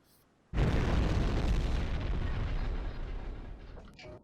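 Torpedo hits detonating in the submarine game Silent Hunter 5: after a short quiet lead-in, a loud, deep explosion erupts and rumbles on for several seconds, slowly fading, with no talk.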